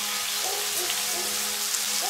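Chicken gyros meat sizzles in a hot pan with a steady crackling hiss, while someone talks over it in the foreground.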